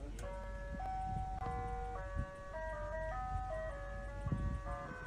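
An ice cream truck plays its chiming electronic jingle, a bright, steady melody of repeating notes under a low engine rumble, moderately loud and without talking.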